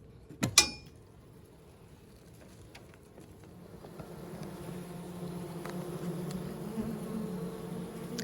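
A sharp knock is followed by a low, steady buzzing of a captured wild honeybee swarm in a swarm box that grows gradually louder and fuller over the seconds.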